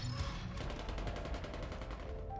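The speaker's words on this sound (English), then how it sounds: "Gunfire rings out." Rapid automatic gunfire from the video game Nikke rattles in a fast, even burst of shots, fairly faint and continuous across the whole short stretch.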